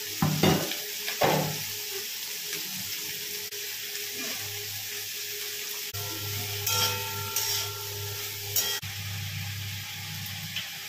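Fish curry gravy simmers in a pan as a spoon stirs through it, with a steady bubbling sizzle and soft scraping strokes close by, a few sharper clinks near the start and middle.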